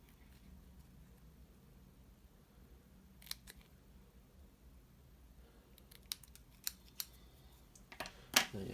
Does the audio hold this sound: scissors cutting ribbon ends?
yes